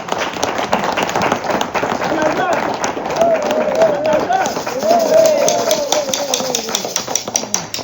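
An audience at a conference for International Women's Day applauds with steady, continuous clapping while a voice speaks over it.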